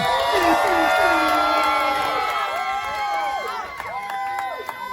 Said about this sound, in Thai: นายน้อยลางกลางขอเสียงเชียร์นายน้อยเลยครับผม